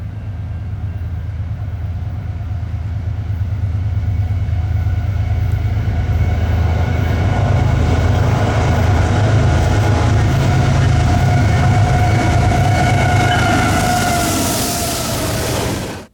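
Norfolk Southern freight train passing with Conrail EMD locomotive 8098 in the lead, a loud sustained rumble building and holding, with a long horn blast sounding throughout, ending in a bright wash of noise before cutting off.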